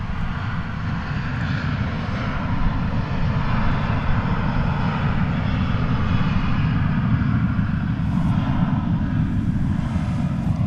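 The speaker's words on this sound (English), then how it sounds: "This is American Flight 60 coming in from Narita Airport in Tokyo. 7878." An American Airlines Boeing 787-8 arriving at DFW Airport from Tokyo Narita, its engines producing a loud, steady low roar with broadband rush that holds constant throughout, no voices.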